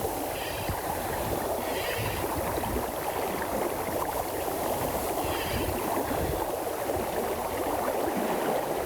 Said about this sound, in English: That's a heavy, heavy current.